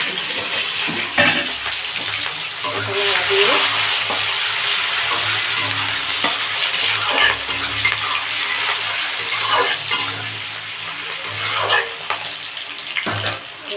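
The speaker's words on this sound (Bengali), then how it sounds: "এই যে পেঁয়াজ আছে পেঁয়াজ কটা সব কয়টা দিয়ে দেবো দিয়ে দিলাম ছোট্ট করে" Chopped onions fry in a pan over hot spice tempering, a continuous close crackling sizzle broken by intermittent spatula scrapes and clatter, with no voices.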